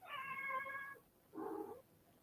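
A cat meows twice, a long drawn-out call followed by a shorter one after a brief pause, fairly close and clear with no talking.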